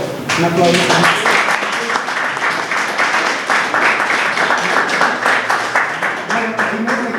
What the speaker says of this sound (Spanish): entonces, un aplauso